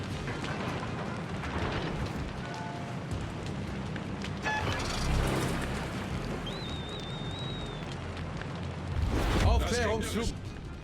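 Naval gunfire in the World of Warships video game hits the player's ship: heavy booms and shell impacts roll under a speaking voice, with a loud cluster of blasts near the end.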